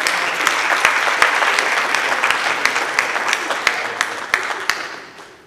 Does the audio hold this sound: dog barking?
no